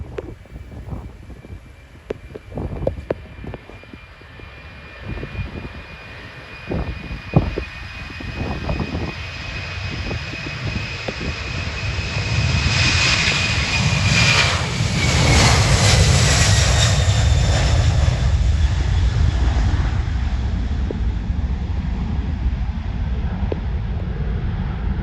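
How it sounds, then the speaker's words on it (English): A TUI Boeing 767 takes off from Manchester Airport bound for Antalya, its engine roar building from a distant rumble to a loud, sustained broadband thunder with a rising whine, holding steady near the end. "Taking off now is a TUI Boeing 767 from Manchester to Antalya."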